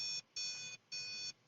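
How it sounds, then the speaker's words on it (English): Electronic beeping from a power probe during back-probing, a high steady tone pulsing on and off in three evenly spaced beeps, close and clear against a quiet background. "There's beeping here."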